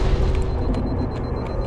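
A grenade going off in the Halo shooter game, a loud, dense boom with a rumbling, sustained body that fills the whole moment without any talking.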